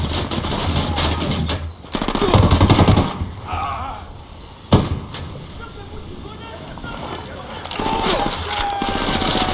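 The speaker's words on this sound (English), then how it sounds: "Opening fire on these fuckers." Gunfire in the video game Ghost Recon Wildlands: sustained, loud automatic bursts with sharp cracks, a heavy shot near the middle, and rumbling battle noise throughout.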